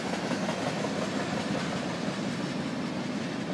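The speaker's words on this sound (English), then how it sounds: "Three trains in one video!" A Norfolk Southern freight train rolls steadily past nearby, a constant broad rumble and rattle of rail cars with no voices.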